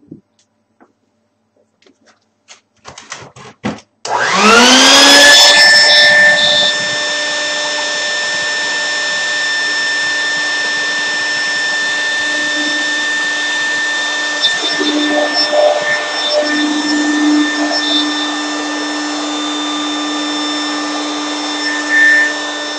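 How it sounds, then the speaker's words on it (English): A vacuum cleaner starts up with a rising whine after a few clicks and knocks, then runs at a steady loud drone while cleaning ash out of a rocket stove heater, with occasional scraping and rubbing. "So I'm going to vacuum it off and vacuum it out."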